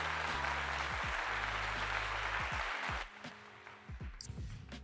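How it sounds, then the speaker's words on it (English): Audience applause at a podcast taping, a dense wash of clapping for about three seconds over a low musical hum, then fading to scattered claps and noise. "Round of applause for that"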